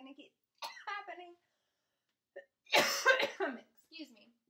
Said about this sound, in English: I cannot grab this cough, and it's just going to keep happening.